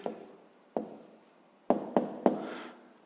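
Pen writes an answer to a fifth-grade maths exercise on paper in short bursts of scratching strokes and taps, close and quiet, with no speech.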